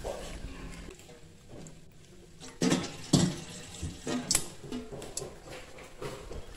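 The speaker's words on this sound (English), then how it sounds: "I'm going to add little water first." A little water is poured into a village-kitchen cooking pot holding snails, crayfish and pepper for Uha soup, giving short uneven splashes and trickles among clattering handling noises at close range.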